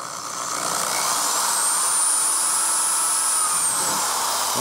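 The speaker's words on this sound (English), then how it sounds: "we'll drill us another hole" A power drill whirs up to a steady high-pitched spin and holds it for a few seconds, loud and close, then begins to wind down while drilling a hole in a wooden 2x2.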